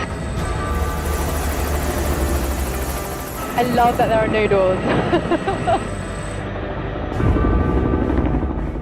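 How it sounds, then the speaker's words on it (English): Helicopter lifting off and flying: a steady loud rotor and engine drone fills the cabin throughout, with people talking over it. "We'll go in a helicopter."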